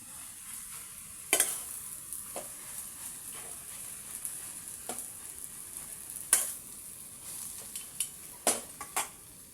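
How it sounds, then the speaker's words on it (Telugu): A ladle stirring and mashing tamarind into gongura pickle in a pot, soft scraping with intermittent sharp clinks of metal against the vessel, fairly quiet and close. "అది వేసుకున్నాక బాగా కలుపుకోవాలంతా."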